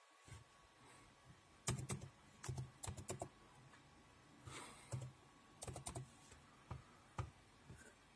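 Someone types a search on a computer keyboard in Windows. Quiet, quick clusters of keystrokes come in several bursts with short pauses between them.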